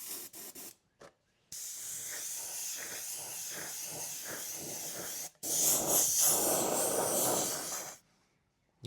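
Aerosol can of black spray paint hissing in sustained bursts onto an RC Kyosho Dune Master car body, close and fairly loud, with short pauses between sprays.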